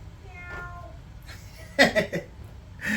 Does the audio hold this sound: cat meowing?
yes